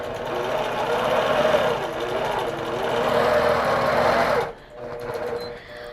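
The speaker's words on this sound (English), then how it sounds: "put my needle down, bring my needle up, pull up my bobbin thread, put my needle back down" A sewing machine stitches a quilt with a steady, loud mechanical whir that runs continuously for over four seconds, then cuts off abruptly, followed by quieter handling noise.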